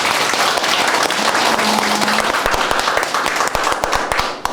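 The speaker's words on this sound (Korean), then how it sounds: "큰 박수 한번 부탁드립니다." An audience at a Busan lecture event applauds loudly and steadily, many hands clapping in a dense wash that holds for several seconds before tapering off at the end.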